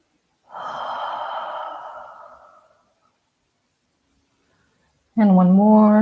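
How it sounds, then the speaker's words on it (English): A deep breath out through the mouth during a mindful healing breathing exercise, one long airy exhale lasting about two seconds, close and clear, followed by silence and then a voice starting to speak. "Breathe in through your nose. Hold it, relax, and breathe out through your mouth."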